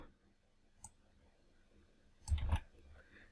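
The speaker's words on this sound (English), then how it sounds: "We can right click and copy path." A computer mouse gives a quick right-click on a Windows PC: one faint click early, then a slightly louder cluster of clicks close by, with no voices.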